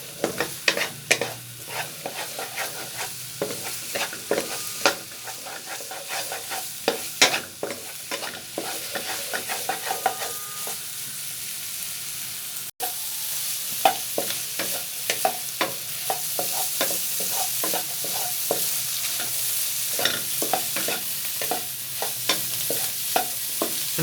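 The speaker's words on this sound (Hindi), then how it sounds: "आपने इसमें लगातार चम्मच हिलाते रहना है।" A spoon scrapes and stirs through egg and pea curry in a pan, a busy run of repeated clinks and scrapes over a steady close sizzle that carries on without pause and no one speaks.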